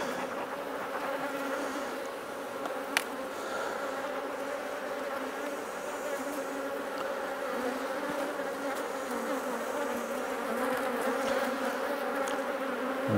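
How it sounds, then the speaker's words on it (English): Honey bees buzz steadily around an open hive during a frame inspection, a dense continuous hum of many insects filling the whole stretch at moderate level with no talking. "The bees are very flighty today."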